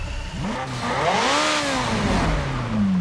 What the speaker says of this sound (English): Let me know what you guys think about the sound of this car.